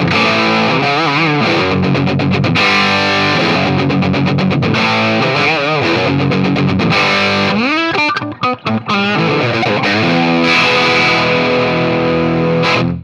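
A loud, raw distorted electric guitar through a Bogner Helios amp with treble, mid and bass controls disengaged plays chords and riffs continuously, with a thick, gritty tone and no voices.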